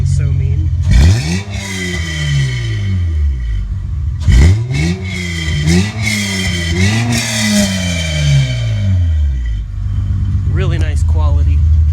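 Honda Pilot engine with a new 2.5-inch exhaust revved several times in quick bursts, each rise and fall loud and close, with a deep, aggressive tone and people talking over it.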